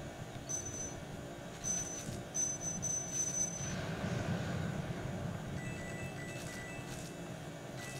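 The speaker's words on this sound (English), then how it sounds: "always use the vacuum." Luigi's vacuum in the Luigi's Mansion video game runs as a quiet, continuous whirring hum with faint whining tones rising and falling over it, steady throughout and low in the mix.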